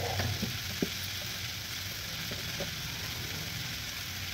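Tomatoes frying in a pan for kakarakaya pulusu, bitter gourd tamarind curry, with a steady soft sizzle and a few light clicks of stirring, close and alone.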